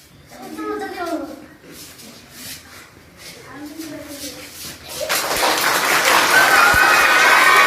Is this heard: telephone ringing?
no